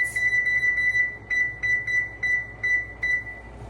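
Kitchen timer beeping in a home kitchen while prickly pear jelly is being made, a string of short, sharp, evenly spaced electronic beeps in quick pulses, close and clear over a quiet background.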